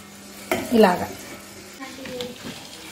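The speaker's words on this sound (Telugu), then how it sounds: "కాగిన ఆయిల్లో వేసి సన్న మంట మీద వేయించుకోవాలి. ఇలా వేసాక ఇవి చిట్టుతాయి." Sanagalu, a crispy chickpea snack, dropped into hot oil and deep-fried over a low flame. A burst of bubbling sizzle rises as they go in, then a softer, steady frying hiss with faint crackles and some low voice sounds.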